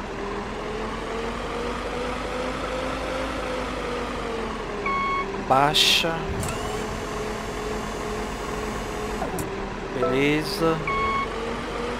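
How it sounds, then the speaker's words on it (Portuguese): Truck reversing beeps in Warehouse Simulator, two short bursts of high repeated beeping over a steady engine drone, with someone talking briefly. "A gente tá fazendo o transporte com esse caminhão."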